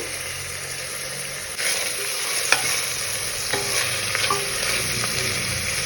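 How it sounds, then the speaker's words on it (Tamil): Chopped onions and small shallots with curry leaves sizzle steadily in a pan for a country chicken curry, a close, even hiss broken by occasional scrapes and taps of a stirring spoon. "ஆல்ரெடி கட் பண்ணி வச்சுருக்கிற ஆனியன் கொஞ்சம் சேர்த்துக்கலாம்."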